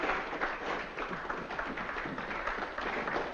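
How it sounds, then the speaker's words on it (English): An audience applauds in a theatre setting, a dense continuous patter of many hands clapping at moderate distance, steady throughout without voices standing out. "Does the applause warrant an encore?"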